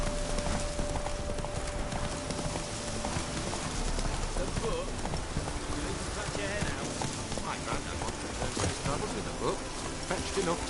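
Horse hooves gallop in a video game, a fast steady clip-clop rhythm under ambient outdoor noise, with talk in the background.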